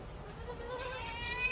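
Faint, drawn-out bleating comes from a goat while it eats, quiet against low background noise.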